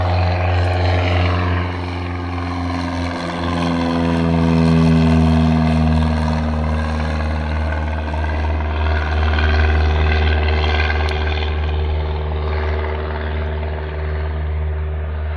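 A small propeller airplane lifts off from an airport in a soft-field style takeoff, its steady engine drone loud and close with strong harmonic hum that swells mid-run and then holds, no voices.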